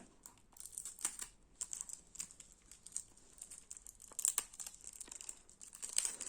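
A foil-sealed Need for Speed Underground PC game box is unwrapped, its plastic film crinkling and tearing in quiet, irregular bursts close by, with no voices.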